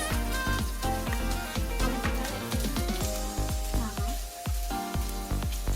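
Carrots added to a frying Afghani rice dish sizzle steadily, with a continuous crackling fry and a series of sharp clicks and taps from the pan throughout.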